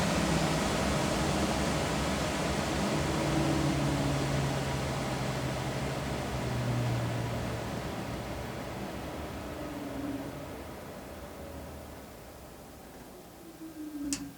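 Rheem Classic Series gas furnace starting up and running, a steady broadband whoosh of the blower with low hum and faint tonal drones, fairly constant throughout with a small click near the end.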